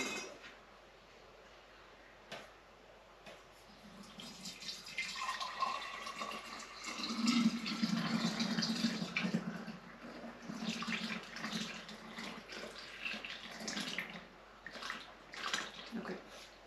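Freshly filtered homemade maple syrup from the 2022 season is poured into jars, a soft liquid stream that swells and fades with light clinks and handling noise, fairly quiet and close.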